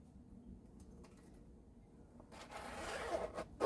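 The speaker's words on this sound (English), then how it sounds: "And it zips up." A zipper on a thrifted knit jacket is pulled up in one quick, close rasping stroke after a quiet rustle of handling.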